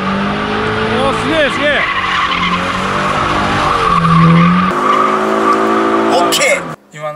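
A Toyota 86/BRZ drifts as a novice connects the clutch. Its tires give sustained wavering squeals over engine noise, close and loud. Excited voices react partway through before the sound drops off near the end.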